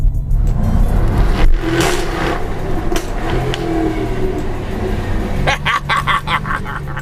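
A 2020 Jaguar F-Type V8 R starts up and revs, its engine note rising in a loud flare early on before settling into a throaty idle, with a second burst of activity near the end.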